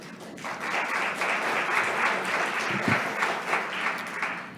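Applause from an audience packed into a town select board meeting room, dense sustained clapping that swells and holds at a fairly close, loud level for several seconds.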